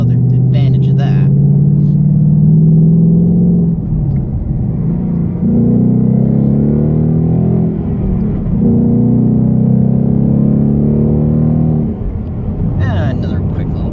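A car engine, tied to the Shelby GT500, rumbles loudly through a sustained acceleration pull, deep steady drone with a few brief dips as gears change, close and continuous.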